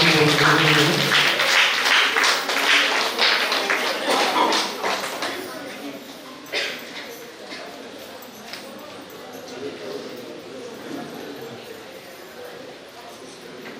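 Audience applause at a prize distribution ceremony for a Ganeshotsava competition held at Sri Satyanarayana temple, Bagambila; loud, dense clapping fills the first six seconds, then fades to a low murmur of the room.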